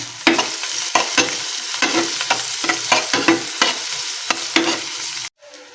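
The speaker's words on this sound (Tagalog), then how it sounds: "Tapos isigigisa natin yung bawang sibuyas." Garlic and onion sautéing together in a little oil in a pan, a steady loud sizzle broken by repeated stirring scrapes, ending abruptly.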